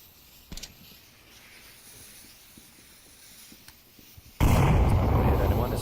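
A grenade lands in the VR shooter Onward with a small thump amid quiet ambience, then erupts a few seconds later into a loud, sustained blast that lasts to the end.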